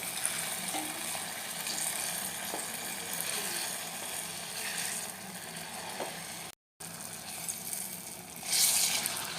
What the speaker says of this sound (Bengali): আস্তে আস্তে ব্যাটারটা ছেড়ে দেবো তেল ভালো গরম না হলে এরকম ব্যাটার ছাড়ার পরে নিচে লেগে যাবে